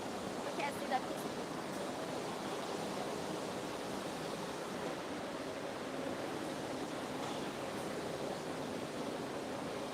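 Water spray rinsing printed circuit boards with air blowers on a PCB etching line, a steady broadband hiss of spraying water and rushing air running continuously, with faint talk underneath.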